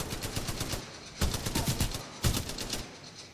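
Automatic weapon fire in Titanfall 2 rattles in steady rhythmic bursts, with sharper volleys at intervals, moderately distant and fairly quiet, with no talking.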